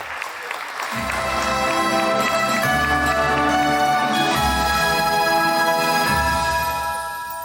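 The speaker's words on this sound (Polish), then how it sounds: "Czas na oklaski dla nidzickiego burmistrza" Sustained applause from an audience honoring a mayor at a regional local-government awards ceremony in Poland. It is loud and steady throughout, blended with stage music and no talking.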